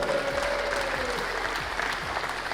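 A crowd at a darts tournament final gives steady, dense applause for the runner-up, continuous clapping filling the hall throughout without a break.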